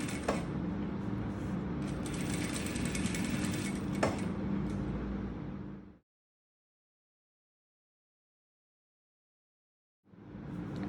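A sewing machine runs a continuous fast mechanical whir while stitching a fine seam in fabric, lasting about six seconds, then stops into silence before starting up again near the end.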